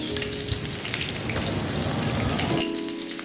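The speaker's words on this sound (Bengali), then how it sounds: "পেঁয়াজটাকে কিছুক্ষণ ভালোভাবে ভেজে নিতে হবে" Chopped onion fries in oil with a bay leaf, giving a constant, close, crackling sizzle like light rain, with a brief faint tone near the end.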